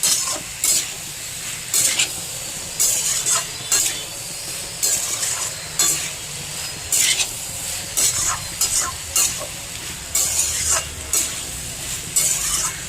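Ginger and spices frying in a pan, a steady sizzle broken by repeated scraping and clinking strokes of a spatula against the pan at an irregular rhythm, close up with no talking.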